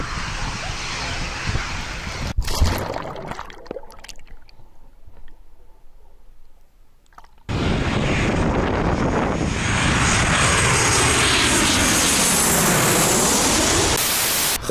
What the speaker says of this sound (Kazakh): Қазір шамамен 10 минуттан кейін тағы бір ұшақ ұшып келеді.